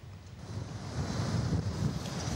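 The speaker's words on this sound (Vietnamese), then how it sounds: "những con sóng to cao gần 3 mét liên tục đánh vào bờ, leo cả lên chải kè biển đường Phạm Văn Đồng" Large sea waves nearly three metres high surge against the seawall embankment on Pham Van Dong road in Nha Trang, a continuous loud roaring wash mixed with gusty wind noise that builds toward the end.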